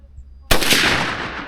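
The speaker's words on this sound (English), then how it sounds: "Just fire off another shot at her." One loud, close rifle shot fired while hunting on Alberta crown land cracks suddenly after a brief quiet, then rolls off in a long fading echo.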